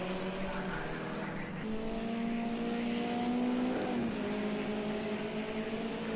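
BMW 320 race cars in a sim racing game, engines droning and shifting pitch through a corner in a steady, continuous whine with no talk.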